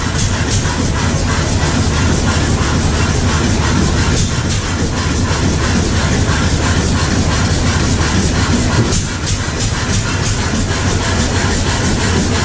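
1905 Bessemer 40 horsepower natural gas engine running at an outdoor tractor show, a loud, dense, continuous mechanical roar and clatter with a steady rhythmic pulse throughout.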